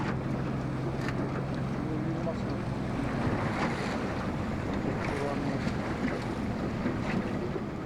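A boat's motor drones steadily, mixed with wind buffeting the microphone and the wash of open water, with no pauses throughout, on the Bering Sea off Chukotka.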